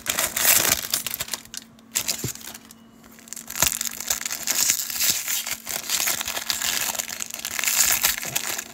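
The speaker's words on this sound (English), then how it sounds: "we still got the stupid plastic wrappers on the inside of these things, too" Plastic wrappers on 1989 Fleer baseball card rack packs crinkle and tear close up in repeated bursts of rustling and crackling, with a brief quieter pause partway through.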